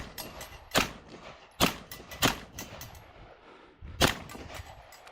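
Four sharp pistol shots ring out on steel knockdown targets during a LESA multigun match stage at West End Gun Club, spaced irregularly with crisp impacts and brief outdoor decay between them.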